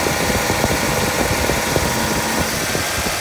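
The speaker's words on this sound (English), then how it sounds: "that's the compressor that you guys are looking down there. You see the clutch is spinning." A running AC compressor with its clutch spinning, in the engine bay of a second-generation Toyota 4Runner, gives a steady, loud mechanical drone with a faint rhythmic ticking, close up and continuous, with no voices.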